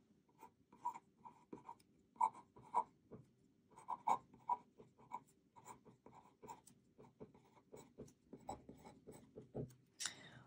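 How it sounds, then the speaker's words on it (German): A pencil or pen scratches on paper in short, irregular strokes, close by and quiet, as a math answer is written down. "Das schreibe ich mal eben auf."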